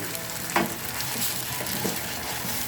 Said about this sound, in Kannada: ಟೊಮೊಟೊ ಹಸಿ ವಾಸನೆ ಹೋಗೋ ತನಕ ಕೂಡ ಫ್ರೈ ಮಾಡ್ಕೊಬೇಕು